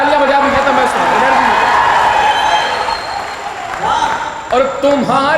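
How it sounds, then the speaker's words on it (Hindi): An audience at a poetry recitation in a Prayagraj coaching hall breaks into steady, loud applause that fills the whole stretch, mixed with raised voices and shouts from the crowd. "एक बार जोरदार तालियां बजा दीजिए"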